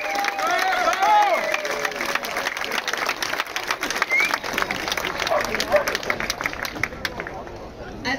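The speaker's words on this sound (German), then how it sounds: "einen großen Applaus bitte für unsere Kollegen von der Polizei." Crowd at a rally in Schwyz applauding, a sustained wash of clapping and cheering that rises and fades over several seconds, with voices calling out across it.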